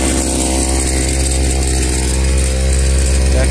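Small outboard motor adapted for a kayak runs steadily up close, a loud, buzzy two-stroke-style drone with no change in pace and no talk.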